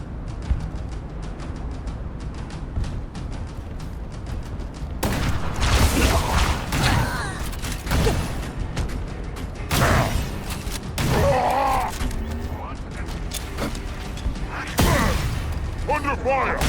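Gunfire and explosive booms in the Halo: Campaign Evolved video game, loud bursts of shots and heavy impacts arriving in clusters over a low mechanical rumble, with voices calling out between them.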